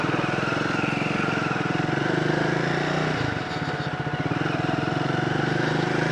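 A Triumph Speed 400 motorcycle ridden at night gives a steady, loud engine drone throughout, easing briefly midway before returning to a constant rumble.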